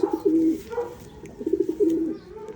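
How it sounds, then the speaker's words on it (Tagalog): Pigeons cooing close by in a loft, low soft hooting phrases repeating in two bursts with short pauses between, no talking over them. "Nahuli mga kalapatids. Itong kaninang tanghali pumasok mga kalapatids."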